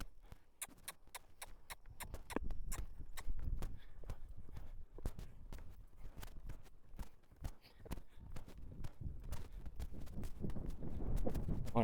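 Horse loping in an arena, a steady rhythmic run of hoofbeats on the ground, close and fairly faint, repeating throughout.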